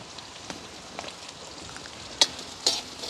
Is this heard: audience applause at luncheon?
no